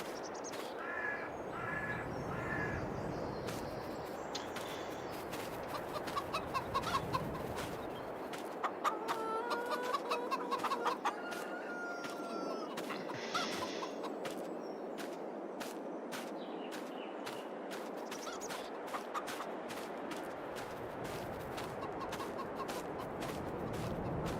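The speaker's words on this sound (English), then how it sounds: "There's our 53 chickens" Chickens in the Farming Simulator 22 video game, a flock clucking and cawing in repeated scattered bursts over a steady background hum, fairly close and continuing throughout without talk.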